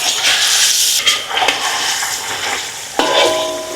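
Tilapia pieces frying in a pan of hot oil, a loud, dense, continuous sizzle with crackling swells and a sharp spike as more fish hits the oil.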